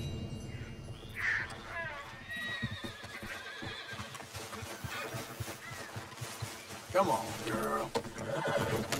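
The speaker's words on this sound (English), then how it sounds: "Why are these horses following me?" Horses neigh and whinny several times in the video game Red Dead Redemption 2, loud and close, amid hoofbeats and a low rumbling background.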